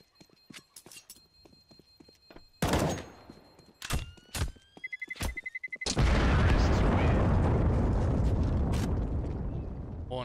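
A bomb explodes in a Counter-Strike match on the Inferno map: after scattered footsteps, gunshots and rising beeps of the planted bomb, a loud sustained blast roars in and slowly fades, with commentary voices faintly underneath.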